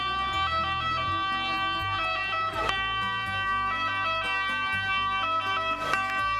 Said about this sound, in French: je trouvais la sirène elle-même pas très sérieuse ni prioritaire